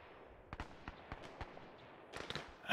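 Distant friendly mortar explosions in a World War II video game set at the Battle of Tarawa come as a series of sharp, faint cracks and thumps over low rumble, with a louder burst at the end.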